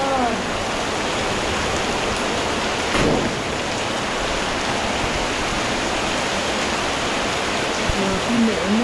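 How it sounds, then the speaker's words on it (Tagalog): Heavy rain falls in a dense, constant hiss at close range during a Sunday neighbourhood meal, with faint voices briefly audible. "It's raining."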